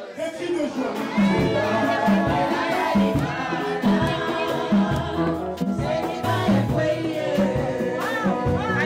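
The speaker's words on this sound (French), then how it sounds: "Elle mérite des cris de joie" Wedding guests in a church shout and cheer loudly as the bride enters, voices whooping over rhythmic music with a steady beat, a lively, continuous crowd roar.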